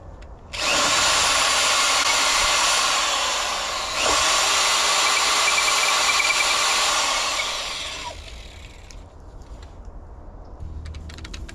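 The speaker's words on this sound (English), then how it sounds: "this time I was going to use the mortise bit that came with it." A power drill fitted with a mortise bit bores into wood from dead trees for a rocking chair, a loud high whine with a brief dip midway, then winding down to quiet handling clicks at the end.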